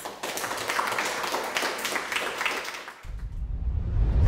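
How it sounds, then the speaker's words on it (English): An audience applauds prize winners at a pottery collections award event, with brisk, fairly close clapping for three seconds that cuts off abruptly into low rumbling noise. "just give them a round of applause"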